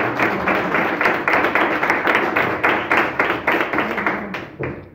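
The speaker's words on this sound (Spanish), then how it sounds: "A mí me gustaría pedir un aplauso para Jero" An audience at a tribute event applauds for Jero, a loud, close, steady round of clapping with rhythmic bursts that thins out and stops near the end.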